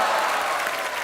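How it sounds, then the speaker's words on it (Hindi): Studio audience applause on a Hindi comedy talk show, a steady dense wash of clapping filling the whole moment with no voices over it. "ठोको ताली"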